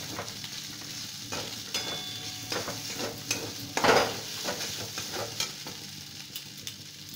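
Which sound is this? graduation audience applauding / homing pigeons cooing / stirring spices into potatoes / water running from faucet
stirring spices into potatoes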